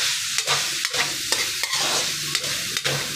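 Sweet potato goes into a hot frying pan and is stirred, giving a constant sizzle broken by rhythmic scraping strokes about every half second.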